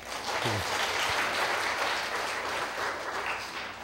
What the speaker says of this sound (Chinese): 那个拍拍手好不好？